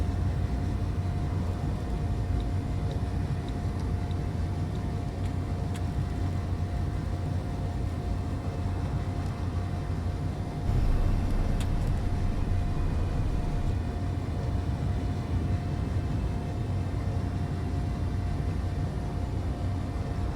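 A ship-size thruster in the game Space Engineers, hauling a heavy, nearly full large hydrogen tank, gives a steady loud low rumble that swells briefly partway through.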